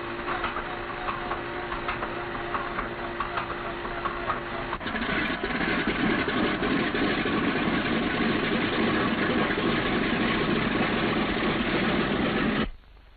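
B-17 bomber radial engine starting and idling: a dense, steady rumbling drone that grows rougher and louder partway through, running evenly until it cuts off abruptly near the end.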